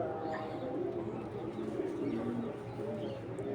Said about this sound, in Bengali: এটা একদম ডাইরেক্ট বিদেশি কবুতরের বাচ্চা